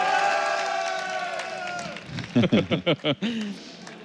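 A large arena crowd at IEM Katowice 2015, a StarCraft 2 esports tournament quarterfinal, roars with sustained cheering that swells into rhythmic chanting bursts, five or six loud pulsed shouts in a row.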